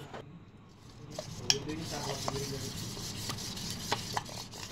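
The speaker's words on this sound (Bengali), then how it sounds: "এই জলটা দিয়ে ব্যাটারটা তৈরি করে নিচ্ছি।" Cornflour and water being mixed into a thin batter in a bowl, soft repeated stirring swishes with light clinks of a spoon against the bowl, fairly quiet and close, with no talking.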